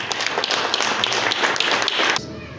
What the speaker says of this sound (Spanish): Por favor, un voto de aplauso.